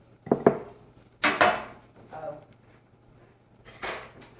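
Metal kitchen utensils clink and clatter close by as a fork is grabbed from among them, a few sharp rattles in quick bursts with quieter handling between.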